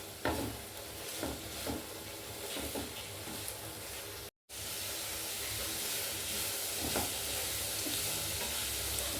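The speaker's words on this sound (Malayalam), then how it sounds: "വേപ്പിലയും കൂടി ഞാൻ അതിൻ്റെ ഒപ്പം ഇടുവാണ്. നന്നായി ഒന്ന് വഴണ്ട് വരട്ടെ." Curry leaves and sliced onion sauté in a pan for pepper beef roast, holding a dense, steady sizzle with light stirring. The sound cuts out for a moment near the middle, then resumes louder.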